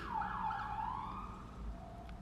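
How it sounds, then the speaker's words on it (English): A siren wails at moderate distance, its pitch sweeping up and down continuously over steady traffic rumble. "Y'all hear the sirens"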